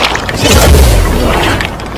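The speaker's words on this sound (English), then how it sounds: "I got tackled by this zombie right here, and I ended up tossing a grenade" A grenade blast in the zombie video game Dying Light 2, one loud, heavy boom that rumbles briefly and fades.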